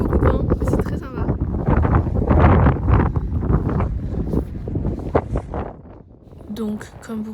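Strong wind buffets the microphone on an exposed hilltop in Scotland, gusty rumbling bursts that come and go while a person talks through most of it.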